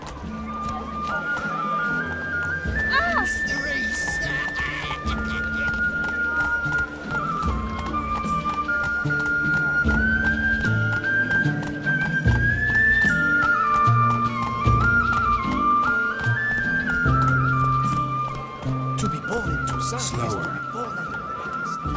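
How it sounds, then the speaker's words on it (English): A horse, Roach, ridden in The Witcher 3 on PC, with neighs and clip-clopping hooves running through a long stretch under a music score and a voice talking. "Whoa there, Roach"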